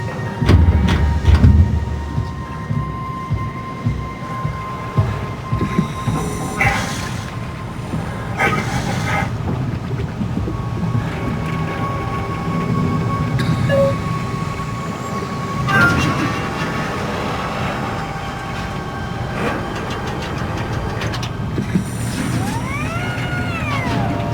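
A shuttle train runs in the sci-fi horror game Soma, a long loud rumble of rail travel with clanks, rattles and bangs, plus occasional tonal whines and a rising-falling sweep near the end.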